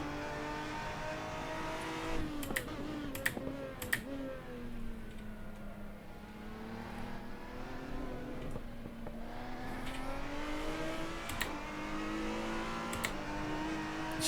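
Race car engines drone and rev in the Assetto Corsa racing game, a steady high engine tone rising and falling through gear changes, with sharp clicks and another car closing in from behind.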